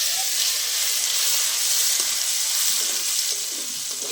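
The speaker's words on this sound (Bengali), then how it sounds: "এবার দেবো রসুন বাটা।" Garlic paste hits hot oil already holding whole cumin and dried chillies, producing a loud, dense, unbroken sizzle with faint crackles, close up and with no one speaking.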